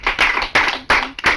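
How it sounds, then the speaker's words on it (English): Audience clapping for a contestant at a math quiz show, heard as short loud bursts of hand claps in quick succession, close and alone without voices. "Please, round of applause for him."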